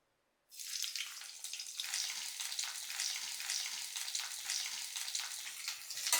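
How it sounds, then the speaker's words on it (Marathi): Thinly sliced bitter gourd dropped into hot oil in a kadhai, a sudden loud sizzle bursting in after a moment of silence and then hissing steadily and close, with no talking. "तेल चांगलं तापलं यामध्ये जातील कारली"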